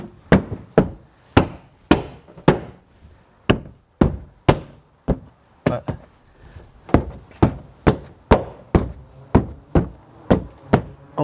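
Sharp, hollow knocks repeat steadily as the handle clips of a 2016 Subaru tailgate are tapped into place, more than twenty close, loud taps coming in quick bursts with short pauses between them.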